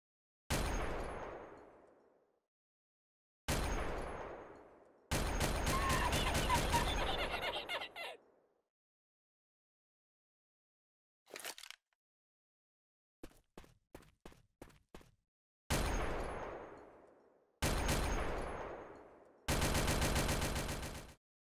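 A .50 cal machine gun from a Source engine game fires in loud, close bursts. Sustained rattling volleys alternate with single heavy shots, and silent gaps separate them, with one run of quick separate pops midway.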